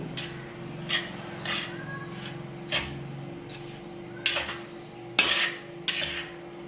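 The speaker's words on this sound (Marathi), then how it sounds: "आता हे मिश्रण आहे ना आपण चांगलं याला मिक्स करून घेऊ" A spoon scrapes and clinks around a bowl in uneven strokes, mixing a jaggery powder mixture, sharp metallic taps standing out over a steady low hum.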